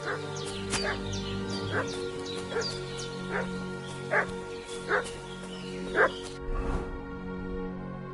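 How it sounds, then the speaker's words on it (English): A dog barks repeatedly in sharp, evenly spaced yelps over a low background hum, fairly close by. "What's that dog making such a fuss about?"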